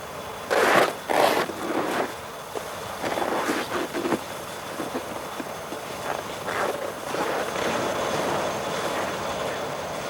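Aircraft engines keep running in bitter polar cold, a steady broad roar that fills the whole clip, with a few heavy thumps and knocks near the beginning.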